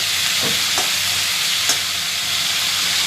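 Cauliflower and potato fry in a pan with a steady, broadband sizzle, and a few faint stirring scrapes cut through it. No one speaks.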